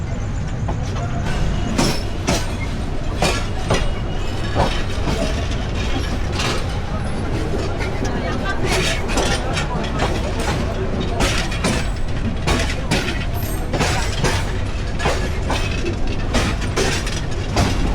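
Heard from on board a night passenger train passing Jadavpur station on the Dhaka to Natore run: a constant loud rumble with repeated rhythmic clacks and rattles of the cars.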